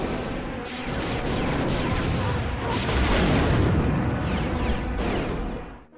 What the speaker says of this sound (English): they can kind of easily be destroyed with just a few more missiles.